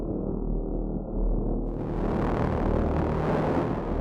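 Low, brassy synth tone from a Novum instrument, roughened by fold-back distortion, growls steadily and fairly loud, with a dense buzzing low end and a brighter upper edge opening after a moment.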